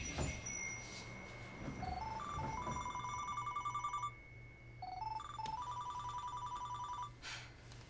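A telephone rings in a repeated electronic melody, two bursts of tones separated by a short pause, with faint room noise underneath.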